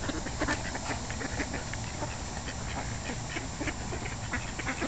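Ducks at a pond quack in a loose, scattered run of short calls, moderately close over a steady outdoor background, with no talking.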